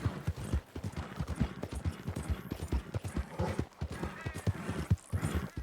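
Horse hooves galloping in Red Dead Redemption 2, a quick, even clip-clop rhythm of close, distinct hoofbeats running continuously with no talking.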